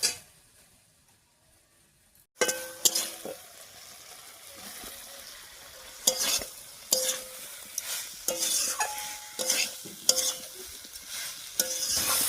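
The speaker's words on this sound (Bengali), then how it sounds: "ফুলকপিটা দিয়ে আলুর সঙ্গে একটুখানি কষে নিলাম" Cauliflower and potato are stir-fried together in a pan with a soft sizzle. After a brief quiet start, a spatula scrapes and clinks against the pan in irregular strokes, close and moderately loud.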